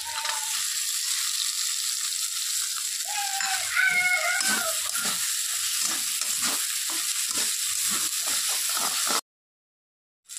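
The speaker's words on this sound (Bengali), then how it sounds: "তো মশলাটা ভাজা হয়ে গেছে। এখন দিয়ে দিব আগে থেকে ভিজিয়ে রাখা কাজু আর কিশমিশ" Spice masala fries in a pan for a banana-flower ghonto with fish head, with soaked cashews and raisins added. A steady close sizzle carries repeated scraping stir strokes and clicks, then cuts to silence near the end.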